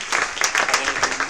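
An audience claps at a live-streamed forum to welcome panelists back onto the stage, a brief burst of scattered hand claps mixed with a speaking voice.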